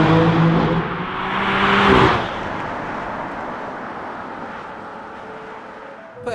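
Original BMW M3 engine revving while driving, a swelling rev rising to a peak then easing off into steady road and engine drone, fairly loud from inside or near the car.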